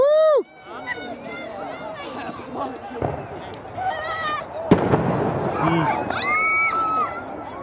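New Year's Eve fireworks on the Las Vegas Strip crackle and boom in the distance as excited voices cheer and shout over the festive bursts.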